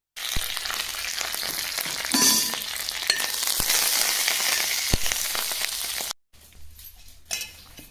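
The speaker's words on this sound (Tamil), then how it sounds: "இப்போ புளியோதரை தாளிச்சிடலாம்." Tamarind rice (puliyodharai) paste tempering in hot oil, a strong close sizzle for about six seconds, then a sudden drop to a quieter crackle with a faint clink.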